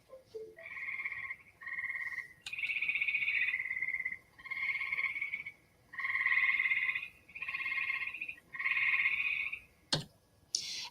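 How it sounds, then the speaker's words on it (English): Gray tree frog calling in New York, a series of loud, bright trilled bursts each lasting about a second, repeated with short pauses, close and alone against a quiet background. "a little trill of the gray tree frog"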